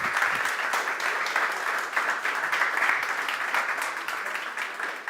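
Sustained audience applause at a gaming hackathon, a steady round of clapping that runs evenly from start to finish.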